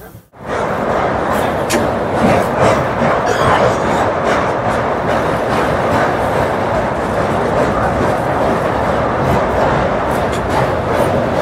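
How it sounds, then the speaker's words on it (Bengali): The 13009 Doon Express rolls into Namo Ghat in Varanasi with a loud, continuous rumble and rattle heard from inside, steady throughout after a brief quiet start. "আমাদের ট্রেন কিন্তু এখন ঢুকছে কাশী বা বেনারসের নমঘাটে।"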